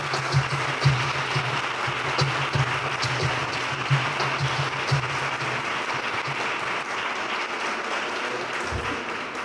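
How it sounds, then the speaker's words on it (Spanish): An audience at a Pride day conference talk claps in sustained, dense applause, loud and steady with scattered sharper claps, fading slightly toward the end. "Le damos ese aplauso"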